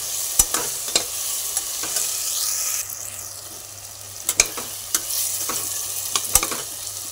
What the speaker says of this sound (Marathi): आता व्हेजिटेबल टाकायचे। हे सर्व मिक्स करायचं।